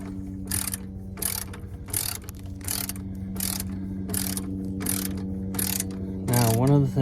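A ratchet with a short socket cranks the exhaust V-clamp on a Cummins ISL 9 diesel in a 2015 Tiffin Phaeton motorhome, making about ten evenly spaced bursts of sharp clicking close by, with a brief mechanical squeal at the end.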